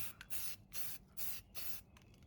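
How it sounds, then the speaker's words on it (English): Four bright hissing bursts from a spray paint can onto an AR-15 rifle, each lasting about a third of a second, close up with brief pauses between them. "Go ahead and spray it in there a little more."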